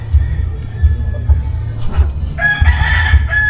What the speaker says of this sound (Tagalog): Yan, manok sa ibabaw ng